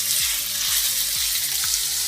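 Minced meat frying with garlic in a pan for a ragù: a loud, close, steady sizzle fills the whole moment, with a soft low thudding pulse repeating about twice a second underneath, and no voices.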